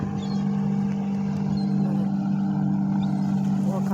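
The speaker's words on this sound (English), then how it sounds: "looks like that's a little speedboat of some kind" Steady engine hum from a small speedboat on a lake near waterfront homes, droning at moderate distance and fairly faint throughout, with no one talking.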